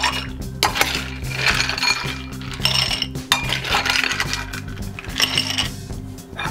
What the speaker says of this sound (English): Next, we're gonna add some ice.